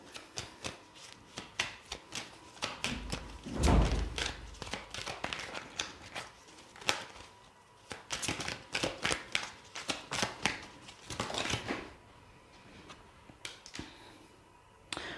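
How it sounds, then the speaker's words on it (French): Oracle cards being shuffled by hand, a quick run of crisp, close riffling flicks and slaps in irregular bursts with short pauses. "Je vais quand même vous tirer une carte avec mon oracle"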